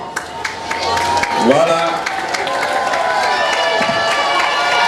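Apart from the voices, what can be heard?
audience applauding the parents at a school event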